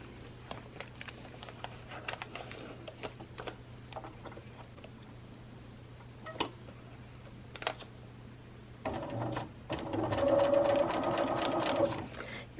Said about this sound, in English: You can see now clearly how I sew over the previous seam